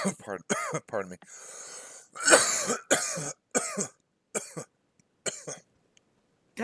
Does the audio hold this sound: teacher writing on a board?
no